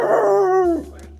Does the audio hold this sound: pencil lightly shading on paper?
no